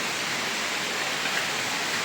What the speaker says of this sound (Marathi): खूप जोरात पाऊस चालू आहे बाहेर.